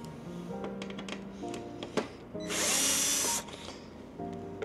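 A power screwdriver whirs in one loud, steady burst of about a second while removing screws from an appliance's top cover panel, surrounded by close clicks and clatter of handling, with no talking.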